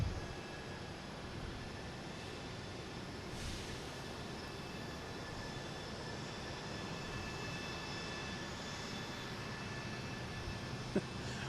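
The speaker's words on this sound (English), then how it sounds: "I hear engines revving." Jet aircraft engines revving at Boston Logan airport, a steady, distant low roar and rumble that holds evenly for several seconds with no talk.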